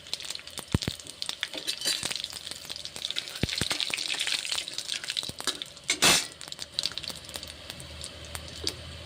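Whole spices frying in hot oil: cumin, cinnamon, cloves and cardamom give a steady crackling sizzle with scattered sharp pops and one louder burst partway through, close up and without talking.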